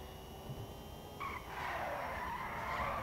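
Tires skid and squeal as a heavy car drifts in Grand Theft Auto V, a rising screech over a constant engine rumble, loud and close, with no talk.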